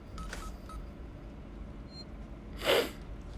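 An old telephone is dialed in the Alien Isolation video game. A few faint, short dial tones are followed a moment later by a louder burst.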